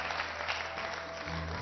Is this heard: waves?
no